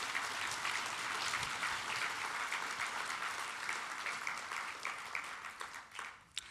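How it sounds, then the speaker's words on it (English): An architecture conference audience at a closing plenary applauds, a broad wash of many hands clapping that holds steady, then thins and tapers off into scattered claps near the end, fairly distant and soft. "I think applause for Ted."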